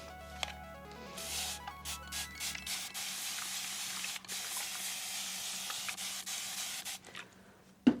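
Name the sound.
spraying something down with a spray bottle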